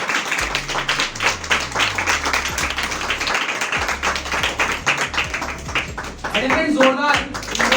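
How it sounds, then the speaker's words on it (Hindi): Audience applause at a live show, loud rhythmic clapping from a crowd close by, mixed with a speaking voice and a low hum through much of it, growing denser toward the end. "एक बार जोरदार तालियां"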